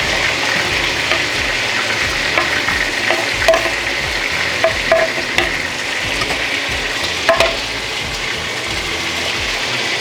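Mixed vegetables sauté in olive oil in a home kitchen pan, a loud, continuous sizzle with repeated scraping and stirring clatter, no voices.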